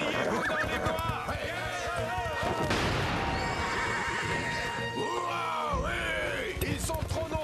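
Cartoon horses neigh and whinny loudly, with hoofbeats as they gallop away, amid a dense battle soundtrack with yelling, shouts and music.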